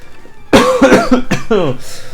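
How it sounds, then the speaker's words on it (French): A burst of several harsh, close coughs in quick succession, loud and raspy, with a brief pause before the final ones. "Toujours cette foutue toux"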